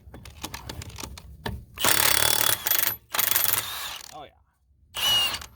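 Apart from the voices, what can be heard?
cordless impact wrench removing lug nuts, Milwaukee Fuel vs Ridgid Octane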